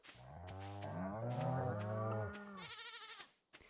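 Farm animals in Stardew Valley, cows and sheep, let out a long, loud, close moo-like bleat followed by shorter game sound effects, with no talking over it.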